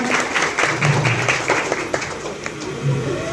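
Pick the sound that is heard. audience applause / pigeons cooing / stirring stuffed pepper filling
audience applause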